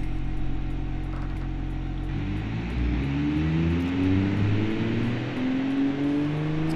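Car engine in the Automation game cranks and catches, then revs up in rising, sweeping pulls over a steady low idle drone, loud and alone without talk.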